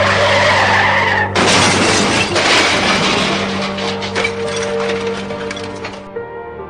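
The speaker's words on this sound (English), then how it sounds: "he was hit by a car." Car skidding and crashing into a boy crossing the road: a screeching tire skid followed by a loud crash burst with shattering debris and rattling that lasts several seconds before cutting off.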